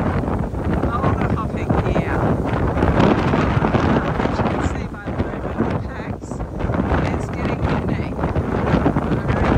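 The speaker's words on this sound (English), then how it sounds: "the wind weather continued to deteriorate" Strong wind on a hiking trail roars and buffets the microphone without letup, a dense, loud rush that holds throughout with only brief dips.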